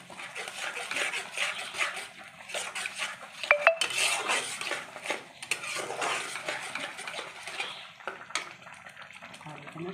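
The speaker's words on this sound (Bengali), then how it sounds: "এবার মাছগুলোকে আমি ভালো করে সব কিছু দিয়ে একসঙ্গে মশলাটাকে ভালো করে কষে নেব" Catla fish pieces are stirred and sautéed with spice masala and curd in a pan, with repeated scraping and clinking of a metal spatula against the pan in irregular bursts, close and fairly clear, with no talk.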